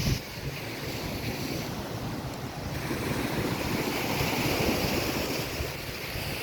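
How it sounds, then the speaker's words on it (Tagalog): Sea waves and strong wind on a fishing coast, a steady roaring wash of surf with gusting wind buffeting the microphone, no voices. "Ang panahon ngayon, baka biglang lumaki ang dagat."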